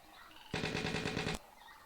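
A burst of gunfire from a Vietnam War strategy video game, a rapid rattling volley lasting under a second, crisp and prominent against a quiet backdrop.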